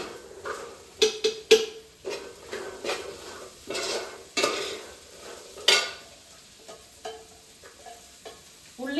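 Food sizzles softly in a pan while a spoon scrapes and knocks against the metal in irregular stirring strokes. No talking.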